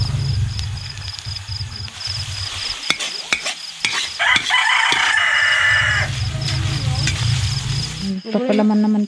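A rooster crows in a rural provincial yard in Occidental Mindoro, heard as a short tonal call partway through. A steady low hum and sizzling kitchen clatter run beneath it, and a brief bright burst near the end.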